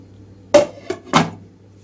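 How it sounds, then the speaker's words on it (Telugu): A lid is set onto a pot of simmering egg curry, three sharp metallic clanks in quick succession, close and distinct over a low steady hum. "మూత పెట్టేస్తున్నాను."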